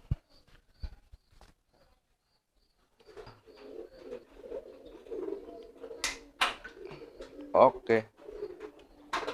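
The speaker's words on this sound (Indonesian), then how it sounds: "baru kita masukkan ke dalam kandang" Racing pigeons make soft, low cooing calls in a loft, faint at first, then busier with some sharp clacks and flutters, while someone talks quietly nearby.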